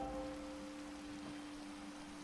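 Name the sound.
rain falling in a video game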